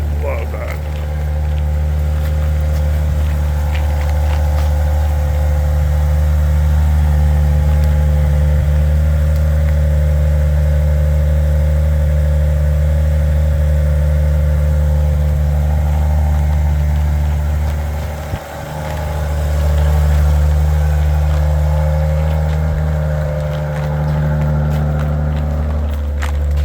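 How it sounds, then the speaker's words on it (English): A five-year-old Maserati engine after a cold start, loud and steady with a deep idle rumble that briefly dips and then returns, running continuously throughout. "It's about a 5-year-old Maserati, and that's the cold start. It's just loud, just extreme."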